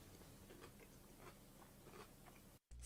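Faint crunching from chewing a home-cooked dish, soft repeated bites close to the mic, quiet throughout, then a brief gap and a sudden loud bump at the end.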